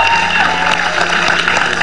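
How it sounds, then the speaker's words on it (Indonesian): A television talk-show studio audience applauds, a steady and loud wash of many hands clapping that runs through the whole moment without a break. "Tepuk tangan sekali lagi."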